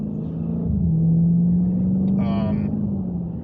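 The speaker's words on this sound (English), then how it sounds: "Got a garbage truck." A garbage truck passes by on a street, heard from inside a car whose trunk has been stripped out; a steady low engine rumble swells and fades over a few seconds under the car's own road noise, with a brief hiss or brake squeal midway.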